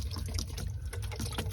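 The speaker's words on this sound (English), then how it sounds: "I'll fill up that water dish" Water pours steadily to fill a tortoise's pet store water dish, a continuous close splashing stream with no voices.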